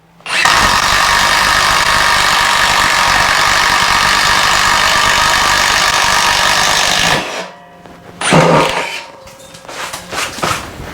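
A Metabo 36V impact driver whirs loudly and steadily for about seven seconds boring a one-inch hole, then stops; a few brief clunks and handling noises follow.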